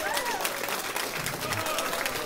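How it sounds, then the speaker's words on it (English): An audience gives a round of applause during a live stream, a short burst of clapping with scattered cheers while someone speaks over it. "Let's give her a round of applause."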